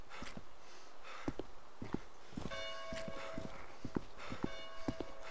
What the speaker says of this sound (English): Church bell ringing in the background, in the distance.